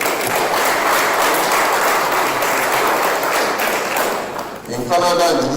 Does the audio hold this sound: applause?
yes